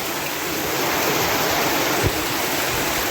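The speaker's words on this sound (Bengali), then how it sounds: "এত বৃষ্টি শুরু হয়েছে, একদম ঝুম বৃষ্টি শুরু হয়েছে।" Heavy rain pours down in a garden with gusty wind, a dense, steady roar of water with no letup, close and loud throughout.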